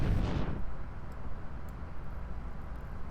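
A loud, booming blast from a MechWarrior battle opens the sequence, followed by a long rumbling low roar of continuous weapons fire and mech combat that persists to the end.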